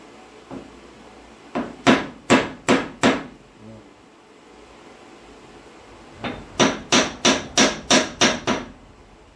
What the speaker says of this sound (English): I need a regular hammer